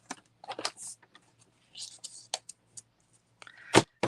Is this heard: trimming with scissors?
yes